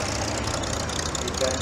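A 1952 Oliver 88 tractor engine running in a tractor parade, a steady low chugging idle throughout, heard close and fairly loud under a busy outdoor background.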